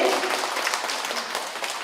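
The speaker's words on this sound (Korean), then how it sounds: "박수 한번 주시죠." Audience applause at a ceremony marking the 115th birth anniversary of a Korean short-story writer, a dense, steady wash of many hands clapping that carries through the whole moment without a break.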